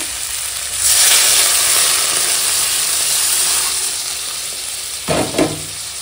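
Water poured into a pan of vegetables being sautéed with spice paste sets off a loud, close burst of sizzling and steam hiss that holds steady and then tapers, with a couple of brief stirring scrapes near the end.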